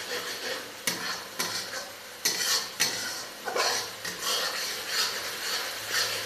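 Spices stirred in a cooking pot for chicken curry, a metal spoon scraping and clanking against the pot in repeated strokes over a low sizzle.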